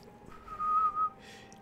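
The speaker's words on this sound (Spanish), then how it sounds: "Te lo silbaré ahora. Repite después de mí." A short whistled melody of the royal anthem from Phoenotopia Awakening, a few clear sustained notes played in-game, fairly soft and alone with no talk over it.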